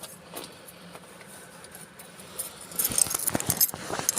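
Metal keys jingle and clink in a burst of bright rattling toward the end, after a quieter stretch of low background rumble.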